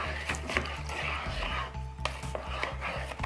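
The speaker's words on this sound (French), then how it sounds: "Vous mettez votre riz dedans. Vous mélangez pour récupérer toute l'écume." Rice is stirred in water for rinsing inside a Tupperware microwave rice cooker, a rhythmic swishing and scraping in a plastic bowl repeating roughly twice a second, close and steady, no speech.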